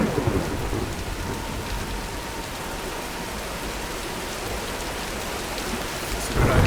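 Steady heavy rain pours during a thunderstorm in Tomb Raider (2013), a dense continuous hiss with low rumbling thunder swelling at the start and end.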